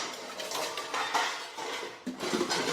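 Metal dishes and plates clatter and clink in a steady, close jumble as household utensils are handled and sorted, with small scrapes and knocks throughout and no voices.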